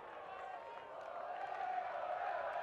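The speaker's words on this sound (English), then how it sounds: "You can hear the crowd." Steady roar of the motorsport race crowd at Misano during the 2008 San Marino MotoGP, a continuous distant wash of cheering that swells slightly toward the end, with no clear individual voices.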